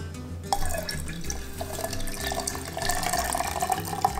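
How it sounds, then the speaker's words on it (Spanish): Blended cucumber is poured into a pitcher of lemonade with mint, a soft liquid pour and dripping splashes over quiet background music, no talking. "Lo vertemos a la jarra de la limonada."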